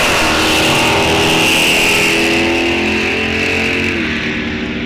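Two drag race cars, a 360 Mopar and a 350 Chevy, roar loudly down the strip at Rock Falls Raceway, a sustained close engine blare that shifts in pitch as they pull away.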